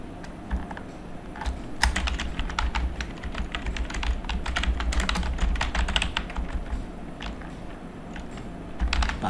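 Steady, close typing on a computer keyboard, with quick irregular clicks and keystrokes running continuously for several seconds while registration details are entered.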